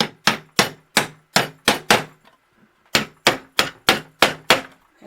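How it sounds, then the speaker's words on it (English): A small hammer taps the wooden bed slats of a doll trunk: six crisp, evenly spaced knocks, a short pause, then seven more, close and loud. "And I do have a little hammer."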